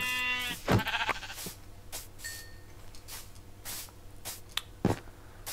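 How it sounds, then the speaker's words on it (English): A Minecraft sheep bleats a few times in the video game, short nasal cries over quiet game ambience with soft in-game hits. "Let's kill that sheep really quick."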